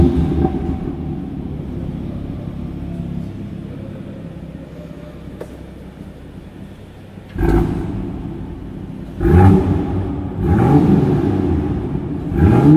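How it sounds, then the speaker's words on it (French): A BMW M engine with its exhaust valves closed idles with a low rumble in a parking lot, then three short, loud revs swell and fall back in quick succession. "Donc tu peux la démarrer déjà en clapet fermé, comme ça on va bien voir la différence dans le parking."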